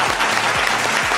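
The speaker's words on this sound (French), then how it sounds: "Applaudissez Shekina, vous deux, s'il vous plaît" Audience applause at a French-language talk event, a steady wash of clapping from a room full of people lasting just over a second, with faint low tones underneath.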